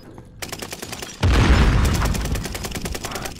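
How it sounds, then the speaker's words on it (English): A grenade goes off in a shooter game, a sudden loud blast that follows rapid gunfire and leaves a rumbling tail under continuing shots. "he threw a grenade"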